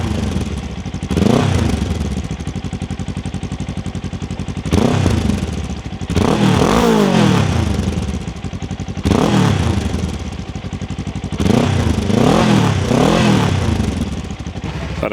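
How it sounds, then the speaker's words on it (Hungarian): A Kawasaki KLE500 SE motorcycle with an Akrapovic exhaust revving up and easing off several times, loud and close, the deep engine note rising and falling in three long surges. "Az élvezetes motorozáshoz nagyban hozzájárult a motoron lévő Akrapovics kipufogó hangja is."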